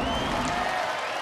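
A Robot Wars arena audience breaks into dense, continuous applause mixed with crowd cheering, a loud unbroken wash of clapping with no talk over it.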